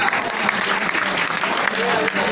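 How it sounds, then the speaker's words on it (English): An audience at a party and seminar in Mau claps in sustained, dense applause, loud and steady for the whole span with a faint murmur of voices underneath. "Once again, let's have a big hand for Shahid."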